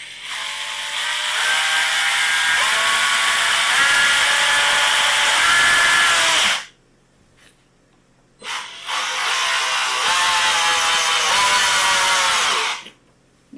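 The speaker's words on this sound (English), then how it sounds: "let's see how it does against Black & Decker's actual drill" A Black & Decker drill runs in two long bursts, a loud, steady whirring motor with a faint ratcheting edge, separated by a short pause with a brief click, and nothing else heard.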